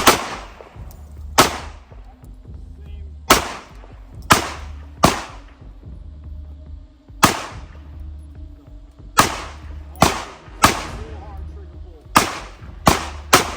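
A handgun fires at a target on a shooting range. About eleven sharp, loud reports ring out close by at irregular intervals, with quiet pauses between them.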